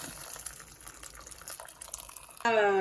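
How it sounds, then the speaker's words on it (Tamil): Water splashes and trickles, then a louder steady pour into a cooking pot for banana flower biryani begins near the end. "இந்த தண்ணியே இதுக்குள்ளே சேர்ப்போம்"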